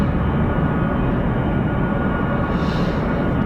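Steady, loud broadband jet roar from a C-17 military transport aircraft at an air base, continuous and fairly close with no break, and no talking.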